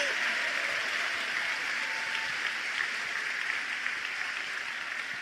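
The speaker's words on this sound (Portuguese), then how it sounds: "Para quem foi esse aplauso?" Church congregation applauding during a sermon on revival, a steady dense wash of clapping that holds evenly throughout without a break.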